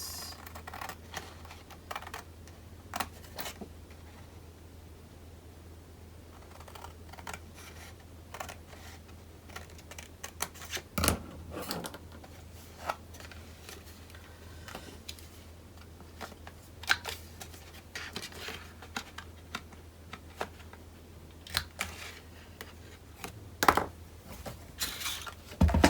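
Paper being cut for a handmade wedding mini album, heard as a long run of soft, irregular close clicks and snips with small pauses, over a steady low background hum.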